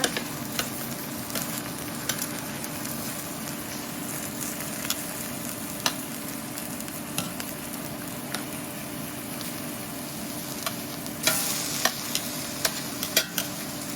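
Candied portobello strips fry in a pan with a continuous close sizzle, broken by occasional sharp pops and clicks of utensils against the pan.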